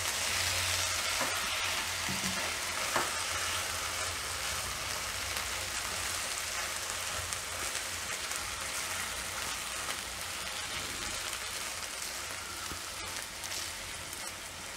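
Tomatoes and green beans sizzling steadily in a frying pan over low heat as they are stirred, a dense continuous crackle heard close and alone for the whole stretch.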